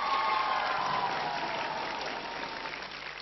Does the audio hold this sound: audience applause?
yes